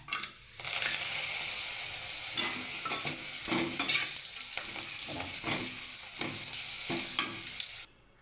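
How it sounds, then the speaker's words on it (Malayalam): Papad sizzles and crackles in hot oil, a steady close hiss with bursts of popping that lasts several seconds and then cuts off. "എണ്ണ ചൂടായിട്ടുണ്ട് ഇനി നമുക്കതിലേക്ക് അതിലേക്ക് പപ്പടം ഇടാം"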